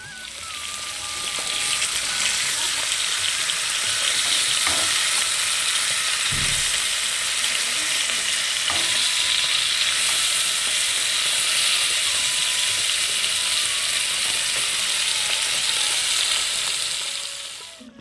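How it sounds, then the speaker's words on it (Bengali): Whole tilapia frying in hot oil, a loud continuous crackling sizzle held close for the whole stretch, with occasional knocks and a thin mechanical whine underneath. "তার জন্য মাছটা প্রথমে আমি ভেজে নিচ্ছি"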